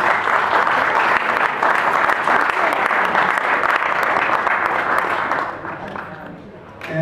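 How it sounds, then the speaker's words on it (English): Loud, sustained applause from a crowd at a Tea Party picnic, dense clapping holding steady for several seconds before tapering off near the end. "Would you welcome and give a good applause to Miss Kelly Liberty Bell?"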